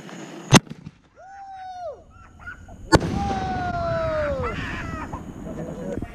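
Fireworks at a birthday weekend celebration: two sharp, loud bangs a couple of seconds apart, with whistling streaks between them and a lingering crackling rumble afterwards.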